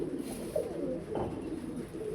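Pigeons coo softly in a loft room, a few low murmuring calls rising and falling at moderate distance, with no one talking.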